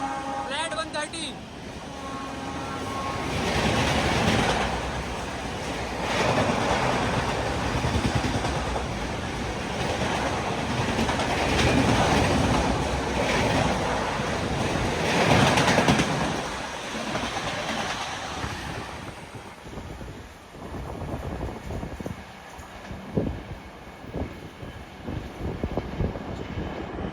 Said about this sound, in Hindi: फ्लैट 130 की रफ्तार में AP एक्सप्रेस चीरते हुए ये होडल रेलवे स्टेशन को